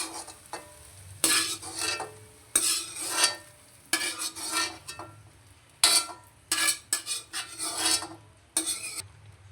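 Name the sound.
stirring stir-fried carrots and eggs in a pan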